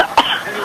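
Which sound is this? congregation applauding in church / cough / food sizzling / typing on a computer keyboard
cough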